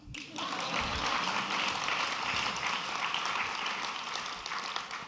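An audience at the Newark Alliance 25th anniversary event applauds, a dense, steady wash of clapping that holds at an even level for the whole clip.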